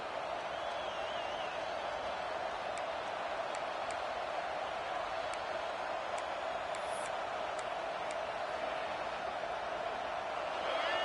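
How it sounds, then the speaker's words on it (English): Steady roar of a college football stadium crowd at Ohio State versus Alabama, swelling throughout as the defense digs in near the goal line, a continuous dense wall of noise with a few faint clicks and whistles. "the crowd coming to life here, trying to help this defense down in the red zone"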